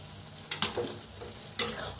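A spoon stirs cooked masoor dal with fresh coriander in a pan, its water boiled away; a few sharp scraping strokes, two close together then one more, over a faint background hiss.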